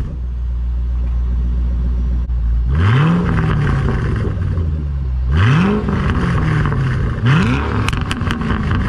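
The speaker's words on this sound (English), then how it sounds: "just helps the exhaust sound really, really nice. It's got a great tone." Ford Shelby GT500 with a 5.8 engine and aftermarket mufflers, a deep idle rumble broken by three sharp revs that rise and fall, loud and near with no talking.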